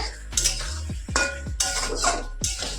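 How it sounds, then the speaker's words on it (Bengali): Spice paste with chili powder, sugar and tomato stirred in a pan for a fish curry, a metal spoon scraping and clanking against the pan in repeated sharp strokes over a soft sizzle, close and clear. "এবার একটু কষিয়ে নেবো মশলাটাকে"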